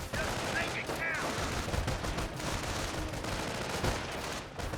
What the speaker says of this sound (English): Incoming enemy fire!